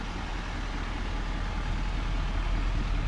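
A 2021 Chevy Silverado 2500 HD pickup with a 6.6L Duramax diesel engine runs at a steady idle, a continuous low rumble close by with no talking.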